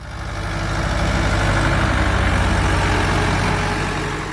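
A 1960s Ford 5000 tractor engine idles loudly and close, a steady low rumbling chug that fades in and out.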